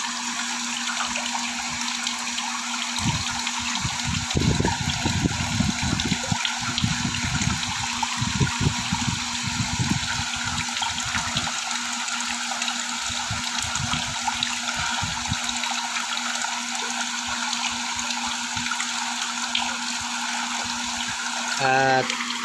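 Water rinses and splashes through a mineral water filter membrane during cleaning, a steady running hiss with bursts of heavier gushing and trickling, plus a constant low hum underneath.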